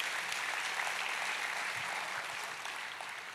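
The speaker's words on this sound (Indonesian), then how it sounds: "tepuk tangannya yang meriah buat Tuhan kita" Church congregation applauding enthusiastically, a steady wash of many hands clapping that holds loud and even throughout, fading only slightly at the end, with no voices standing out.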